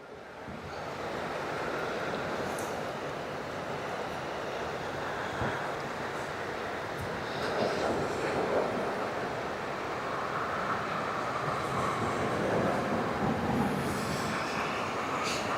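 Surf washes in steadily along a beach in Aberdeen, a continuous broad rushing with wind buffeting the microphone, no voices over it.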